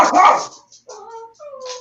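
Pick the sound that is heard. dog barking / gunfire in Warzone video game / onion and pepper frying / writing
dog barking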